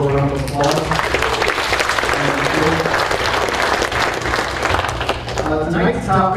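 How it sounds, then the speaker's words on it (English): An audience at a family recovery gathering breaks into a sustained round of applause for the woman who cooked the pulled pork dinner, a dense, even clatter of clapping with a voice speaking at the start and end. "give her a little round of applause"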